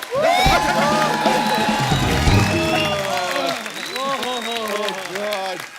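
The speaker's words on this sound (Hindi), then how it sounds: "एक बार जोरदार तालियां हमारे मेहमानों के लिए" Studio audience on a Hindi TV comedy talk show breaks into loud, sustained applause with cheering and whoops for the guests, mixed with music and overlapping voices throughout.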